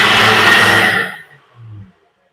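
A newly bought kitchen blender whirs loudly with a steady motor roar for about a second, then winds down and stops with a brief lower rumble before silence.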